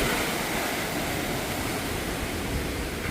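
Strong wind roars steadily and loudly, a dense broadband rush with gusty buffeting against the microphone, no voices present.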